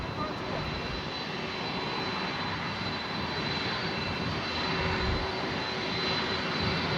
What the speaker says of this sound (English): Now the Delta 767 300ER heading back to Atlanta, Hartsfield Jackson as Delta Airlines flight number 1882.